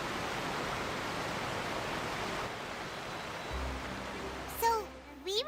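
Near a boat dock in the video game Genshin Impact, loud water rushes in a constant hiss, then drops away as a voice speaks briefly near the end.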